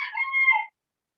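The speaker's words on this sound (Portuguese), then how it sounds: "Ó, o galo cantou." A rooster crows once at a moderate distance, a single drawn-out call lasting under a second that cuts off into silence.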